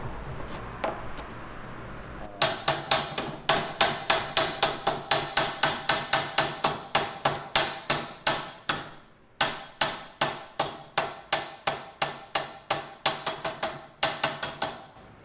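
A small sledgehammer strikes a freshly welded metal joint again and again, a long run of sharp, loud, evenly spaced ringing blows close by, with a brief pause midway; no one speaks.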